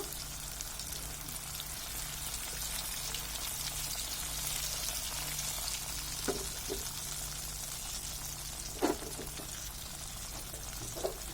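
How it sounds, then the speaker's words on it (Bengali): Raw banana chops fry in hot oil, a steady, fairly quiet sizzle and crackle with a few sharper pops and spatters scattered through it. "এটা বেশিক্ষণ সময় লাগে না ভাজতে, চট জলদি হয়"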